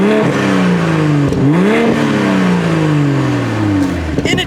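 A 2024 BMW M240 with the turbocharged B58 inline six-cylinder engine revving loudly and close, its pitch climbing, dropping and swelling again through several sweeps, heard alone.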